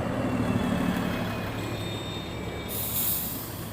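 A large vehicle, a bus, rolls past on a busy city street in Toronto, Yonge Street, with a steady loud rumble and some high squealing as it goes by close.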